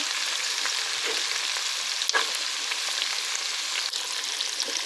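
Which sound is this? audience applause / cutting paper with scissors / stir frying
stir frying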